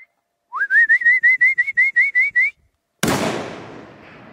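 A hunter's loud, close warbling whistle of about ten rapid pulses to stop a Columbia blacktail deer, followed after a short silence by a sharp, booming gunshot that echoes away.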